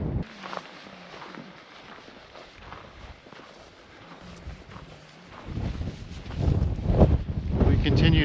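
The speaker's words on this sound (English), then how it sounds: "Continue to have brutal conditions on the trail, just a fierce wind" Fierce wind on the Laugavegur trail in Iceland, in cold, foggy, misty weather, roars and buffets the microphone. It starts as a low, steady rush and swells into heavy, booming gusts after a few seconds.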